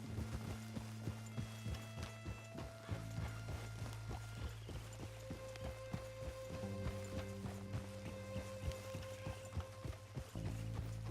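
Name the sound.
horse galloping hooves in video game Red Dead Redemption 2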